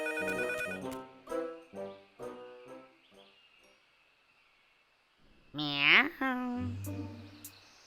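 A cartoon telephone rings in a short bright electronic burst near the end, after a stretch of animated speech, with a low tone following.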